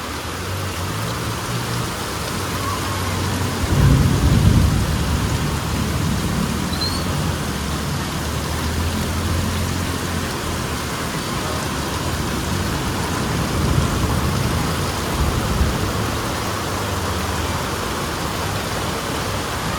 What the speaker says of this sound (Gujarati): આજે પાસોદરામાં બહુ વરસાદ છે